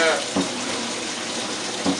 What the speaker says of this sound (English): Wash that with soap.